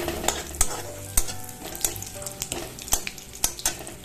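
Chillies frying in hot oil with bay leaf give a loud, close sizzle broken by repeated sharp scraping strokes of a spoon stirring the pan, with no talk.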